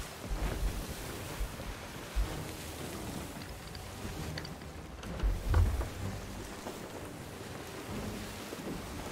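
Seawater flooding into a leaking sloop in the pirate game Sea of Thieves: a continuous rushing, sloshing roar with low surging swells and occasional heavier gushes, no voices.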